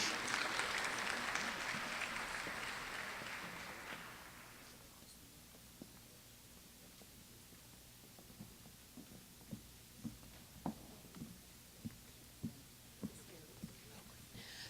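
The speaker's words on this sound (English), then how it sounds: "A round of applause as Dr. Kyler approaches the stage." Audience applause at an honors ceremony hall: dense clapping for about four seconds fades out, followed by quiet room tone with scattered isolated claps or knocks.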